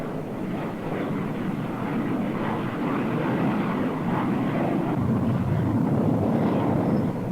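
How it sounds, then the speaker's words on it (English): A steady, broad jet roar rumbles continuously as fighters and bombers launch from a U.S. Navy attack carrier's deck, engines running at high power. "During the launch of the attack carrier's mix of fighters and bombers"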